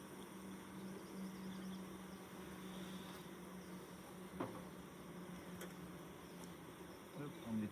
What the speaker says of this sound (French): Il y a déjà du frelon d'Asie, ça c'est embêtant, je les entends.